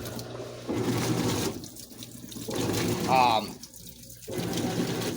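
A washing machine on a heavy duty cycle with all options on fills with a low level of water, giving rushing, splashing bursts that stop and start in uneven stretches.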